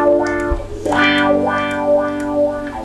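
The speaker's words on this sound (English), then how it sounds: "a pedal on the floor and you rock it backwards and forwards and it creates this sound that goes wah wah" Electric guitar played through a wah-wah pedal, the tone sweeping open and closed in repeated swells over sustained distorted chords, loud and close with effects-laden sustain.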